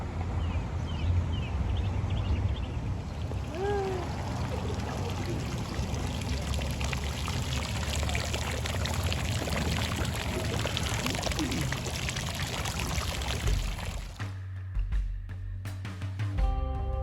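Water from a hot spring pours steadily from a fill spout at Hot Springs National Park, Arkansas. The stream runs close and constant, then cuts off near the end.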